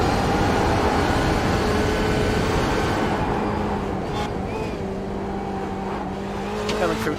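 Race car in a racing video game at Road Atlanta downshifting into turn one and climbing the hill, a loud continuous engine roar with shifting pitch and faint tire squeal, with commentary over it.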